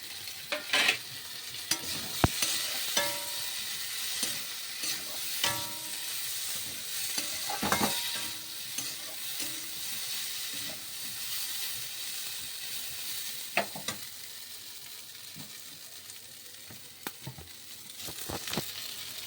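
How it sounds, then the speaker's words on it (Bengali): Soaked fish fries in a pan and is stirred, giving a steady soft sizzle with frequent sharp scrapes and clinks of the spatula, close and moderately quiet. "মাছটা আমি দিয়ে দেবো, দিয়ে একটু নাড়াচাড়া করবো"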